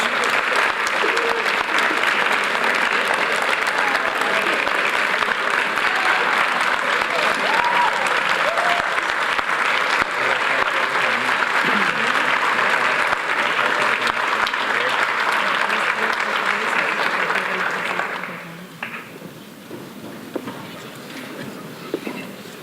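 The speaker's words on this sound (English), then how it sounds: "Come on, let's have a nice round of applause." A large audience at a school awards ceremony claps steadily and loudly for about eighteen seconds, with some voices mixed in, before the applause stops abruptly and leaves a quiet room.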